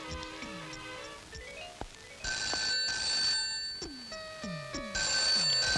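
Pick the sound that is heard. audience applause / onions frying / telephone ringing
telephone ringing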